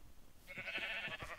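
A sheep bleats in the Minecraft video game, a few short nasal calls in quick succession over faint background noise, with no speech.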